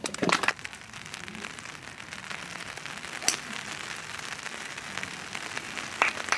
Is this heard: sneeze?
no